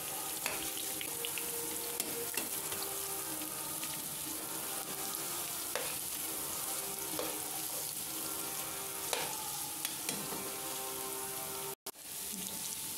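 Cauliflower pieces for baji sizzle and fry steadily in a pan of hot oil, a continuous bright crackle with a few soft stirring knocks, close up and uninterrupted, with no one talking.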